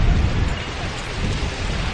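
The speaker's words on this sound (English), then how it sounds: "it is raining on us. It is windy" Heavy rain hisses steadily while wind rumbles and buffets the microphone on the beach island of Castaway Cay, loud and unbroken with no voices.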